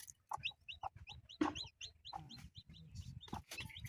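Chickens cluck steadily at close range while small chicks peep in quick high bursts throughout, with no talking.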